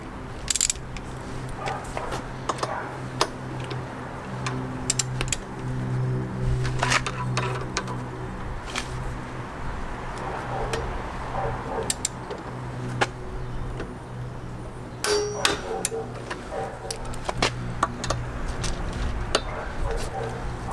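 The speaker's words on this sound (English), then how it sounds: "Get our torque wrench. set it to 17 foot-pounds." Torque wrench tightening the bolts of an SW-Motech SLC side carrier rack on a Kawasaki Versys X 300 motorcycle, with sharp metallic clicks and clinks scattered through a steady low hum, while a person talks throughout.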